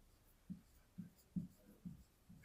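A pen scratches across paper in five short, evenly spaced strokes. The writing is close and quiet, with no talking.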